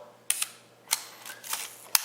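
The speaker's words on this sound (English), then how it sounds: "You can hear the shutter's working fine. It's got a little leaf shutter." A handful of soft, crisp mechanical clicks from the small leaf shutter of a Minolta Hi-Matic 11 film camera firing, spaced irregularly and heard close up in near silence.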